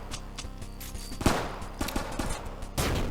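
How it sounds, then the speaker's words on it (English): Rapid gunfire from the twin-stick shooter GUNGUNGUN, bursts of shots with sharp louder blasts near the middle and end, layered over game music and effects, with no talking. "I keep forgetting that you can shoot projectiles out of the air."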